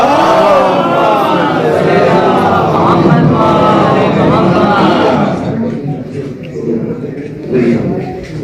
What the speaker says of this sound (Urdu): باواز بلند نعرے سلوات